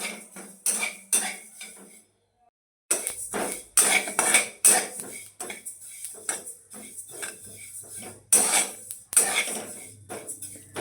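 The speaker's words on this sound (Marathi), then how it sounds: "आता आपण याच कढईमध्ये हे पांढरे तिळ आहे ते भाजून घेणार आहोत" A utensil stirs white sesame seeds as they roast in a kadhai, making repeated metallic scrapes and clinks in short bursts, with a brief pause near the start.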